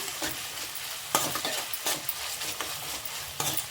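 Crushed garlic and ginger frying in a pan for a mango and brinjal dish, a close steady sizzle broken by several sharp scraping stirs of a spatula, with no voices.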